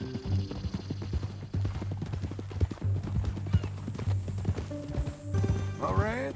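Horse hooves clip-clopping in a steady walking rhythm in the video game Red Dead Redemption 2, with a brief whinny near the end and faint voices in the background.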